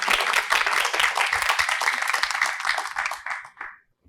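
Audience applause at a seminar on arts economics following a samba group's introduction, dense sustained clapping filling the room for about three and a half seconds before tapering off to silence.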